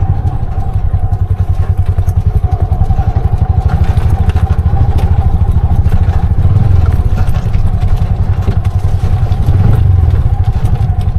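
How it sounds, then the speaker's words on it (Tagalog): Close, loud and steady, the engine of a Bajaj RE three-wheeler putters rhythmically on a steep, rough road, its rapid firing accompanied by constant rattles and occasional thumps from the body, rising slightly in effort at moments. "Tining ng makina niya, oh."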